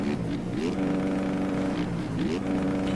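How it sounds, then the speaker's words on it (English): Engine note of a motocross bike in the video game MX Bikes, a steady buzzing drone that rises in pitch twice as the rider revs, with faint talk underneath. "I can hear Cam's little engine."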